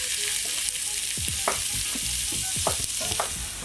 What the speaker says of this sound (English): we are just going to sweat this onion down